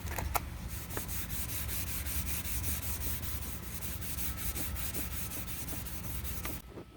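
A pad scrubs back and forth on a car headlight, making a steady, close, rapid rubbing hiss in quick regular strokes that continue without break until a sudden stop near the end.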